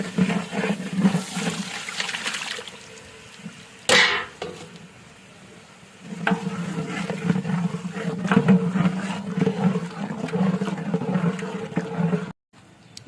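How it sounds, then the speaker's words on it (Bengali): Sour yogurt and spice mixture is poured into masala frying in a large pot for a big batch of chicken roast, giving a loud splash around the fourth second, then steady sizzling and bubbling until a brief cutoff near the end. "এবার টক দইয়ের আর মশলার মিশ্রণটা এখানে ঢেলে দেওয়া হবে।"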